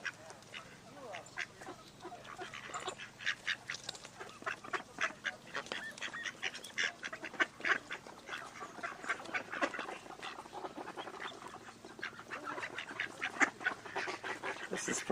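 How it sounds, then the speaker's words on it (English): A crowd of ducks quacks and honks constantly in rapid, overlapping calls, close by, with a few faint voices in the background. "I certainly struck gold here for ducks"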